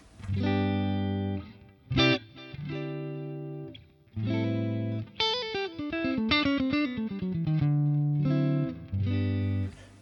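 Electric guitar through a Boss Katana amp's clean channel, with sustained chords broken by pauses and a fast run of single notes in the middle, bright and close.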